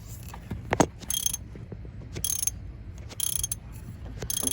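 A ratchet loosens an 18 mm bolt on an S550 Mustang GT engine during a cam swap, giving a few sharp mechanical clicks and short bursts spread across a quiet garage background, with no talking.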